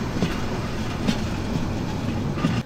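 A train departs Comilla railway station: a continuous loud rumble and rattle of railcars, close and steady, with faint wheel clatter and no voices.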